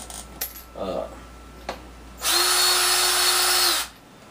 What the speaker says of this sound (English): I can trim brass faster than most of your hand trimmers and stuff